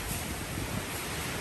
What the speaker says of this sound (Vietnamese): Bên ngoài gió đang rất là khủng khiếp luôn